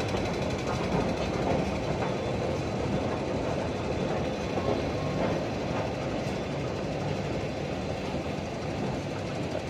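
Steady rumbling roar of a train in motion, a dense continuous low noise with no voices.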